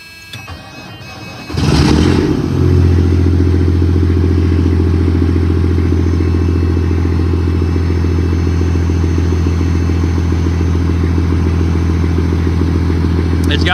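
A Detroit diesel engine in a shop vehicle cranks briefly, then fires and settles into a loud, steady low idle that runs on without a break.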